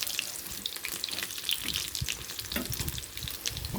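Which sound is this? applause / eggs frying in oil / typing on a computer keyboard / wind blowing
eggs frying in oil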